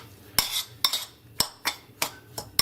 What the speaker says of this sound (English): we're gonna give that a quick mix